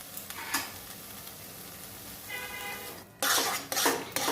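Chhena for kachagolla sandesh is stirred in a pan until dry, producing faint scraping spoon strokes against metal and a light sizzle, with a sharper clatter of utensil on pan near the end.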